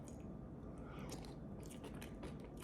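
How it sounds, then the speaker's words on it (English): Someone bites and chews Little Debbie Neapolitan ice cream that crunches like crystallized sugar granules, giving a close, quiet series of irregular crisp crunches without speech. "the audio of me crunching on actual granules of sugar"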